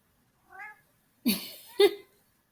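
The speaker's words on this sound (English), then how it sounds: "just walked over meowing" A house cat meows once softly, then gives two louder, longer meows close by in an otherwise quiet room.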